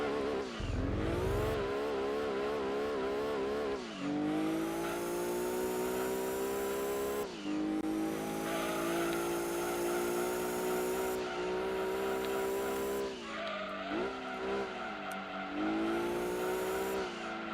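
Race car engines roar steadily in Gran Turismo 2 during an endurance race at Apricot Hill, with loud continuous engine tones that rise in pitch through each gear, drop sharply at shifts, and climb again.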